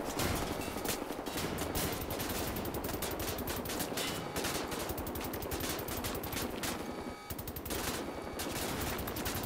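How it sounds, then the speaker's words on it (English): Laser gun firing in the Wolfenstein: The New Order video game that cuts through metal, a dense, continuous rapid-fire stream of loud crackling shots lasting throughout with only a brief dip. "Holy crap, dude, this shoots lasers."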